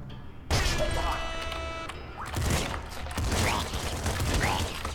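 Shotgun blasts go off in the top-down shooter game Nuclear Throne: sharp, loud bursts crack out in quick succession over electronic game effects and tones.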